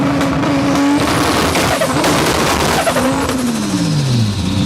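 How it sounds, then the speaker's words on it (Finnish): A taped Toyota Soarer at an exhaust sound contest revs loud and close, its engine and exhaust rising and falling in pitch through repeated throttle blips, with a sustained tone sweeping downward near the end. "Mille Soarer kuulostaa?"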